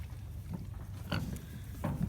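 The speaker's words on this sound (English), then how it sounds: "Each of my daughters owns one of these pigs." Pigs on a farm grunt and oink in short bursts at close range, several low snorts spread over two seconds against a steady background hum.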